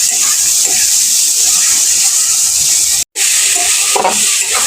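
Onion and masala for chicken kasha fry in a pan while being stirred, a loud, constant close hiss with faint scraping, interrupted by a brief cut.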